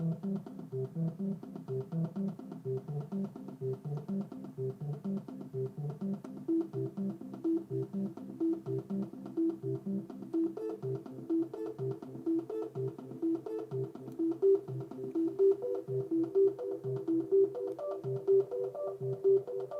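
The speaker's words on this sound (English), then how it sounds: "play back different musical tones when I press the buttons" A steady stream of electronic musical tones from an Adafruit MagTag's buttons, notes changing in quick succession like a melody tapped out, continuous and fairly close throughout.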